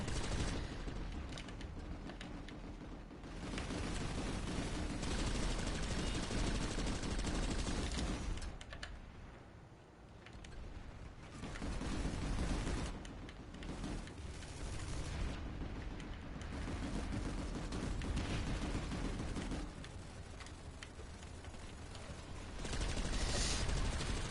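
Orion machine gun firing in the video game Planetside 2, sustained loud automatic fire in long dense bursts broken by a few brief pauses, close and with no talking.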